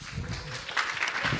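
Audience clapping at an Ashoka Fellows presentation, a dense burst of applause that grows stronger partway through, steady and close.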